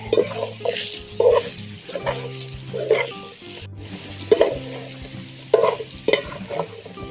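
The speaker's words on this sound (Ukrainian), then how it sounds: "Зараз все гарно перемішаємо і покажемо, що вийшло." Silver carp steaks with seasoning stirred in a pan, a utensil scraping and clinking in repeated strokes over a steady sizzle, close and fairly loud.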